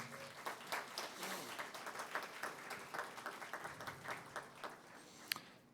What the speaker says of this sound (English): a round of applause, please, for Hand in Hand